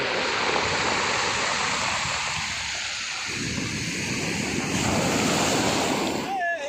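Ocean surf at a Dubai beach roars continuously with wind buffeting the microphone, a loud steady wash of breaking waves that dips briefly midway before surging again.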